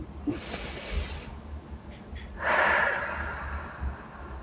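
Deliberately slowed breathing practised as a labour contraction exercise: two separate breath sounds, a soft airy one early on and a stronger, louder breathy exhale midway that fades out slowly, close to the microphone with no talk.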